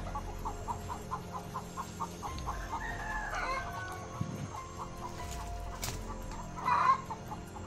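Chickens clucking and a rooster crowing at a moderate distance, scattered short clucks through the background with a brief louder call near the end, quiet rural ambience.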